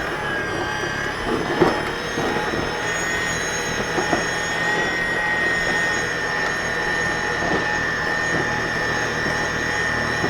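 An Ego 28-inch two-stage electric snow blower clearing snow, a steady whirring motor and auger drone running continuously at close range, with a few soft knocks and no talk.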